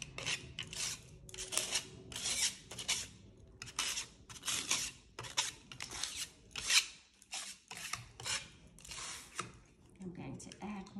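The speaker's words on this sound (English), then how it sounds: "I'm just going to move underneath the paint and just scrape some areas with stencil of Paris." Repeated rasping scrapes of a stencil dragged through Tjhoko paint on an artwork, short rhythmic strokes close up, fairly quiet.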